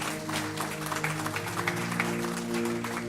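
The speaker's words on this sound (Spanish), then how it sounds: "Dale un fuerte aplauso al Señor." Church congregation applauding the Lord during a Spanish-language sermon, a steady, dense wash of clapping across the full clip with a faint tonal background underneath.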